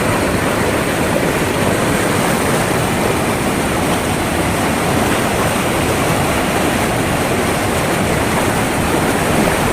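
Heavy water rushing and roaring at Brindavan Gardens in Mysore, a loud, unbroken broadband wash that stays close and steady with no voices over it.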